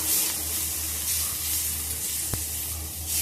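Onions, green chili and curry leaves sauté in a pan with a soft, continuous frying hiss and one brief clink partway through.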